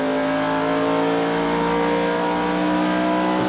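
A NASCAR Busch North race car engine drones steadily at high revs, a loud sustained roar that holds without letup, as the car runs at speed on track.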